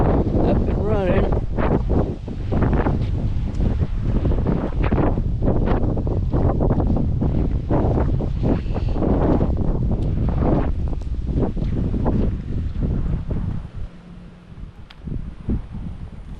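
Wind blowing hard outdoors during a generator installation for a power outage, loud buffeting gusts on the microphone with rustling and flapping paperwork, people talking over it.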